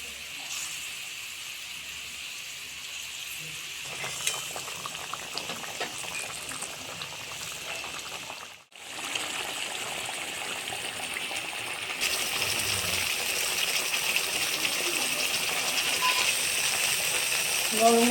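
Water with stuffed pointed gourds (potol) bubbles and simmers in a pot, a steady close boiling hiss with clinks and a brief cutoff midway, then louder bubbling; faint speech occasionally under it.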